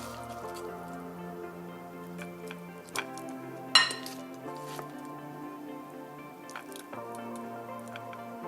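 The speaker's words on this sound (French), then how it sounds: "Avec une grosse cuillère, on vient remplir l'emporte-pièce." A big spoon scoops avocado and melon tartare into a pastry ring cutter, giving soft wet squishes and a couple of light metallic clinks against the ring, up close and alone.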